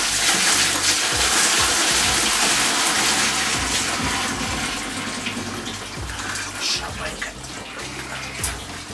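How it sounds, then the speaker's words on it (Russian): Boiling water pours steadily during a first home beer brew, a loud continuous gushing splash that eases slightly over several seconds, with some voices under it. "Кипяточек пошел."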